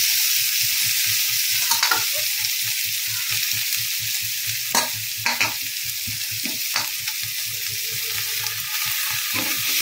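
Pre-fried cauliflower meets spiced masala in a pan for a Bengali fulkopir dhokar dalna, giving a steady close sizzle with a regular pulsing rhythm and a few sharp spatula scrapes, no talk.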